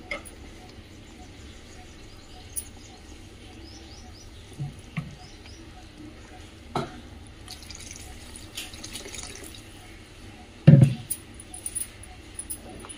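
Faint water trickles and splashes into a pot of thick brinjal masala gravy, with occasional soft clatters and one louder knock near the end.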